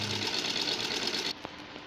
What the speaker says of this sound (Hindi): अब कपड़ा बुकरम के ऊपर अंदर की तरफ फोल्ड करेंगे और सिलाई लगाएंगे।